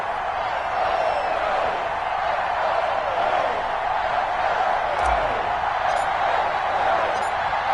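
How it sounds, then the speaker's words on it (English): Steady stadium crowd roar fills an EA Sports football match between the Washington Football Team and the New York Giants, a dense continuous wash of cheering with no clear peaks throughout. "This crowd is ready as their guys get set to match up between the Washington football team and the New York Giants."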